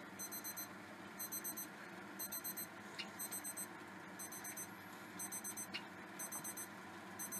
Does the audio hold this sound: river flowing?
no